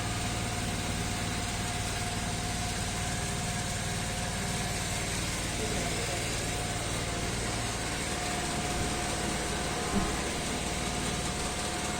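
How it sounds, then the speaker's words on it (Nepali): Motorcycle engine running steadily while hooked to a carbon cleaning machine, a continuous even hum and vibration at constant speed, close and unchanging for the whole stretch, with no talk. "कार्बन क्लिन गर्ने मेसिन चाहिँ यही है"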